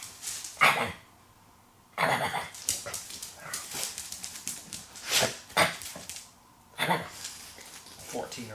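An old 14-year-old dog barking for its dinner outdoors, with several sharp, raspy barks spread between pauses and someone speaking nearby between and over them.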